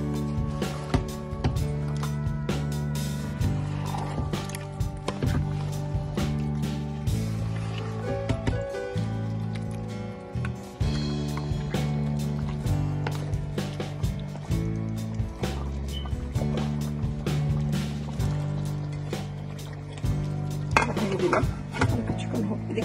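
Food stirred in a pot, with a steady run of close metallic clinks and scrapes of a utensil against the pot and a low hum underneath.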